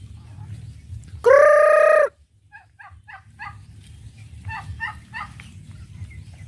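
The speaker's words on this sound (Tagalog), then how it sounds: "may mga pabo pa guys." A turkey on a farm in Daanbantayan, Cebu, lets out one loud, close gobble, followed by softer quick clucking calls from fowl against quiet farmyard background noise.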